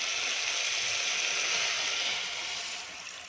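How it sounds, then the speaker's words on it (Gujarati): Water pours in a steady stream into khichdi cooking in a pot, a continuous bright splashing rush that tapers off slightly at the end. "પાણી એડ કરી દઈશું"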